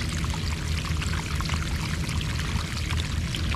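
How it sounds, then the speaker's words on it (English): Water pours steadily out of a French drain outlet in a soggy yard, a continuous, loud, close rushing splash with no pauses. "And look how much water comes out of that ground from that French drain."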